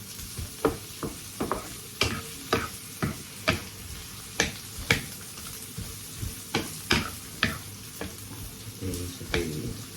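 Sardines sizzle with white onions in a frying pan under a low, steady hiss, while a spoon stirs and scrapes in sharp, regular clicks about every half second.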